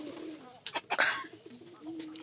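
A pigeon at a bird market gives a soft, low coo, close and faint, with a brief burst of fluttering noise partway through.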